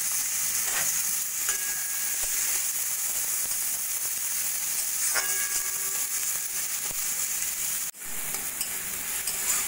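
Chopped onion frying in hot oil with panch phoron and dried red chilli, a steady close sizzle and hiss throughout with occasional stirring scrapes and clinks.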